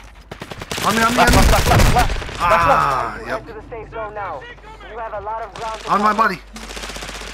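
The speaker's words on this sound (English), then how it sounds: "I'm getting shot. Taking effective fire." Rapid bursts of automatic gunfire in the Call of Duty video game, loud and close, rattling in several volleys while a player talks over the shooting.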